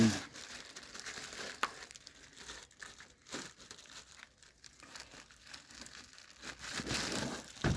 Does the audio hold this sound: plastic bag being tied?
yes